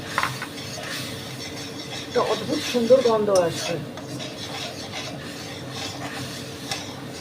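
Jaggery melting in ghee with a little water, stirred with a utensil that rubs and scrapes against the pan in soft, uneven strokes, busiest in the middle and otherwise a faint, steady background.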